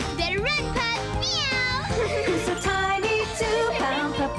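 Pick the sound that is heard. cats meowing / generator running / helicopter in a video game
cats meowing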